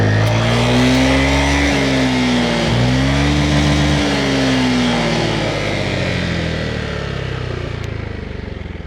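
Zontes 368E scooter engine revved while standing still, loud and close, the pitch climbing, dropping briefly, then rising again before easing into a steady high drone.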